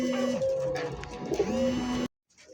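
A pair of strawberry Barhma pigeons coo close by in a few low, drawn-out calls, then fall suddenly silent.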